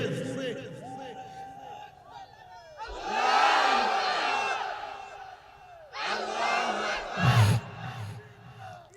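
Crowd at an Islamic sermon loudly shouting takbir, two big bursts of many voices roaring together in unison after a lone preacher's voice, the second burst ending in a sharp peak.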